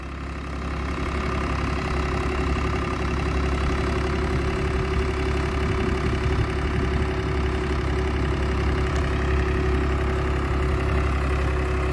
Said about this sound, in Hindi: भाई पूरा जवानी पे है ट्रैक्टर।